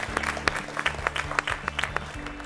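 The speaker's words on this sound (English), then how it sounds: "Let's clap for them," Audience applause at a school quiz competition, steady clapping from a hall crowd lasting the whole moment, moderately loud and close, with a few individual claps standing out.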